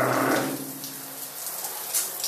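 Cold shower water running in a home bathroom, a close, steady rushing spray that starts a bit louder, then settles into an even hiss with occasional splashes.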